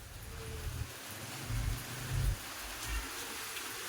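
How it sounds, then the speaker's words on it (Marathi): Continuous rain pours in a village on the day of the Bail Pola festival, a steady wash of hiss with a few low rumbling swells, moderately loud and without talk. "हे बघा, आज आमच्याकडे सकाळपासून कंटिन्यू पाऊस चालू आहे."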